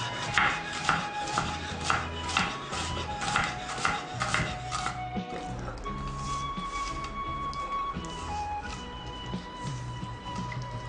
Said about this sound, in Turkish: Soğanı yarım daire şeklinde doğruyoruz.